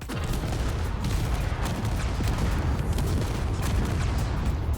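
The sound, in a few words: spaceship turret gunfire in Space Engineers video game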